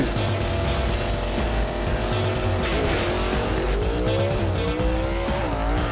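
A 1955 Ford gasser roaring through a drag race run, its loud engine climbing and shifting in pitch with a tire squeal, heard at close range and alone without any talking.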